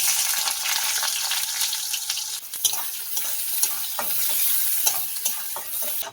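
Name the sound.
onion frying in hot mustard oil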